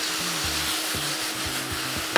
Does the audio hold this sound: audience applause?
no